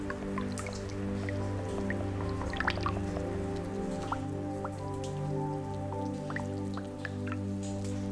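Water drops falling inside a lava cave, scattered sharp drips at irregular intervals over a steady low hum, echoing faintly and heard alone.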